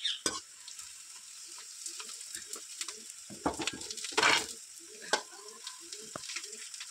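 Moringa drumsticks fry in a wok, a soft steady sizzle running underneath while a spatula stirs them with irregular scraping clicks and one louder burst of rattling near the middle.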